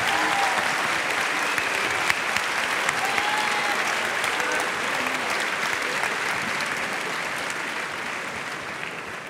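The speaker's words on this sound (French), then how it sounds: "Veuillez accueillir sous vos applaudissements le premier violon," A concert audience applauds to welcome the first violin at a symphonic hip-hop orchestral show, producing a steady, dense wash of clapping that holds at an even level from start to finish with no voices rising above it.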